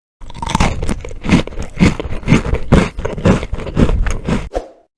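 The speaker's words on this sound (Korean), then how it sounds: "잘 구워진 크래커의 겉면에서 바삭함이 먼저 느껴집니다" Someone bites into a crunchy homemade François-style cracker topped with sliced almonds, giving loud, close chewing with a dense series of sharp crunches and scraping textures, and no talking.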